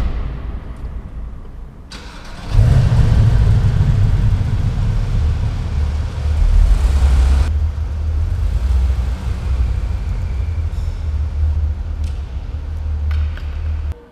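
A VW Golf R engine idling, then starting up with a loud low rumble and holding a steady drone while the car reverses, close and dominant throughout.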